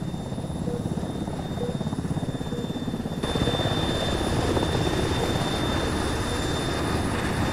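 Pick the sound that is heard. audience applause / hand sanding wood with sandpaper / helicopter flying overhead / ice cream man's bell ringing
helicopter flying overhead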